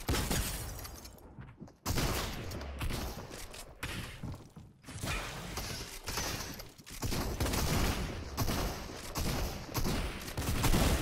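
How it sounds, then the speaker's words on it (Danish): Dense, rapid bursts of Fortnite gunfire crackle almost nonstop, with sharp repeated shots and brief pauses between volleys. "der ramte ikke så skud der"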